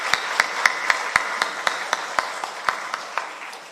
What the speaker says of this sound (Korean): 지도위원 구역장 권찰님들께 감사와 격려의 박수하겠습니다